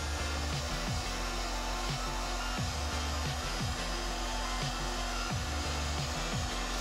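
A hot air tool blows a continuous, loud whooshing hum while heating high density foam for bending, with faint repeating low thumps under the steady airflow and no speech.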